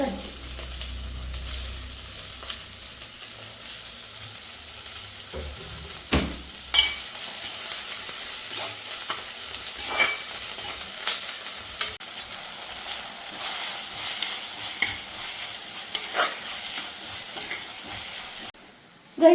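Onions and green chillies frying in oil in a pan for a fish curry, a continuous soft sizzle broken by the scrape and knock of stirring, with a few sharper clatters along the way and no speech.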